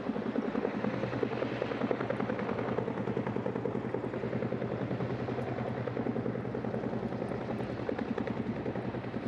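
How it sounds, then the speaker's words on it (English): A V-22 Osprey tiltrotor flies at a Marine aircraft demonstration in Arlington Park, giving off a loud, steady, pulsing rotor drone that holds throughout with no talking. "The V22 pilots are now adjusting their speed."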